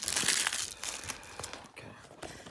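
Plastic wrap on a 2019 Topps Heritage baseball card blaster box crinkles and tears in close, quick bursts of rustling, loudest at first and then in shorter scattered crackles.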